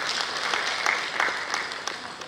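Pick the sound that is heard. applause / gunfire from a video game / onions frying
applause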